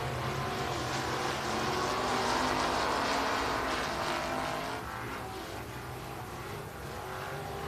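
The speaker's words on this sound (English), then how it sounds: "USRA stock car racing." USRA stock car engines roar at Rocket Raceway Park during a feature race, a loud, steady blend of several cars at full throttle that swells and then eases slightly as the pack moves on.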